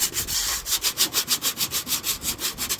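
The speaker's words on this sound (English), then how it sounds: "Get it all sanded." Rust being sanded off an old appliance by hand, a steady back-and-forth scraping rub in quick even strokes, close and fairly loud with no voices.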